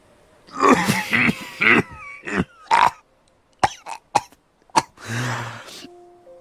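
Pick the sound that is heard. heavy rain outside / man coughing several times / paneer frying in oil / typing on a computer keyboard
man coughing several times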